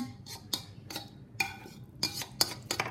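Metal utensil scraping leftover sauce from a baking pan while assembling gluten-free baked spaghetti, a series of short sharp scrapes and clinks at an uneven rhythm, close and moderately quiet, with no talking.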